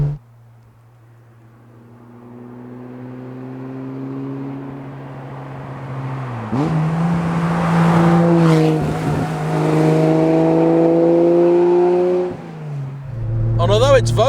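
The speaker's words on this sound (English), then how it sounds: "And although it's vocal, it's not obnoxious. It just sounds like a proper car." A backdated Porsche 911 Carrera Sport with a G50 gearbox drives along, its engine droning low and then rising through the revs. After a pause for a gear change it pulls hard again, loud and close, ending in a sharp squeal.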